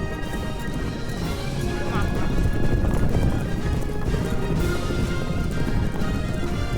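Racehorses gallop in a race from the 2003 film Seabiscuit, drumming hooves pounding in a fast, continuous clatter over crowd noise and voices.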